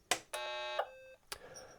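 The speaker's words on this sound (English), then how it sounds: "So we got the 2 beeps." A BBC Master computer powering up gives two short electronic beeps, the second longer and steady, preceded and followed by soft clicks in a quiet room.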